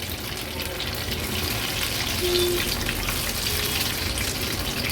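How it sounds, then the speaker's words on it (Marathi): Paneer pakoras deep frying in oil on a medium flame give off a steady, close, continuous bubbling hiss with no pauses and no talk. "हे पनीर पकोडा आपण एक दोन मिनटासाठी तरी मीडियम फ्लेमवर असं कंटिन्यू स्टर करत तळून घ्यायचे"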